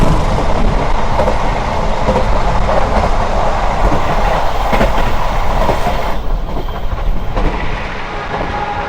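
Steady rumbling roar inside a KA Taksaka executive passenger train in Indonesia running at speed, with continuous rail and wheel noise and faint clickety-clack throughout, dipping slightly near the end.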